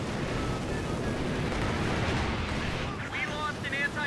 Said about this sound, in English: Rocket run, dropping on top of this.